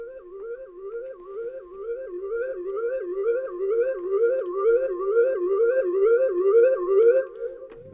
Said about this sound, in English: The last ingredient of the track then actually is this arpeggiator sound